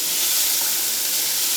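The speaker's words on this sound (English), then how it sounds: "onions go in." Onions sweating gently in a pan as the base for butternut squash and sage risotto, giving a steady, soft hiss and sizzle that holds evenly throughout with no voices.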